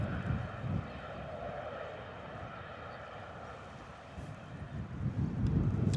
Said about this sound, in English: Little Luigi, there's nothing wrong with that plane.